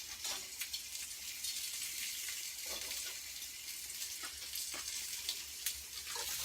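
Steak frying in a hot cast iron pan gives a steady close hiss and crackle, with occasional louder pops, continuous throughout.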